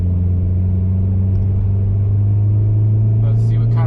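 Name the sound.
car with new ECU accelerating in second gear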